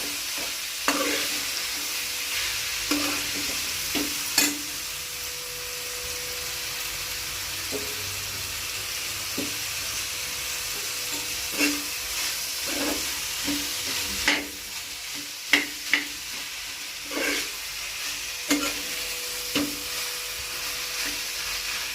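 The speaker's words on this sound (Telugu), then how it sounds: "ఇప్పుడు బఠానీలు ఇది కలిపి కొంచెం అంతా వేపుకోవాలి దీంట్లో కలిసే విధానంగా" Sliced onions and green peas fry in an oil pan for a homemade gobi curry, a steady close sizzle running throughout, broken by repeated scraping knocks of a spoon stirring the pan, with no one speaking.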